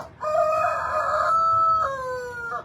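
A rooster at an urban farm crows once, a loud, close, drawn-out cock-a-doodle-doo that rises, holds and falls over about two seconds, heard alone.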